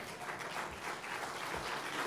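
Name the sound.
applause, audience clapping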